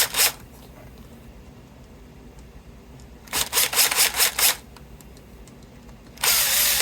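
A Bosch power driver drives screws in short bursts: one whir at the start, a cluster of stuttering pulses in the middle, and a longer run at the end, close and loud against a quiet background.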